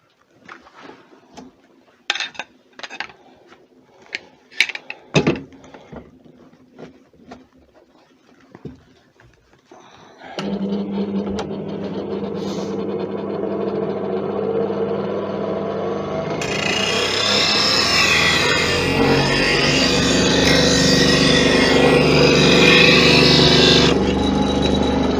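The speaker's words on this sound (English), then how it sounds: "It only takes seconds to sharpen a tool." A bench grinder spins up and grinds a wood turning tool, a sustained loud whirring rasp that intensifies and brightens partway through, preceded by scattered taps and knocks in the workshop.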